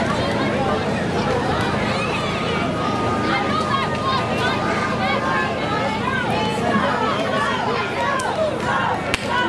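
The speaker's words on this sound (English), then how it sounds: "You hear chants of Stone, Stone, Stone coming out of the young voices in the audience." Young fans in a wrestling crowd chanting for Adonis Stone before the main event, a dense, continuous roar of shouting voices with rhythmic chanting filling the hall.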